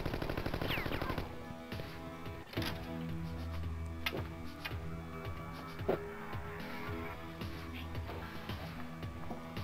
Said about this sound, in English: She just goes in open fire.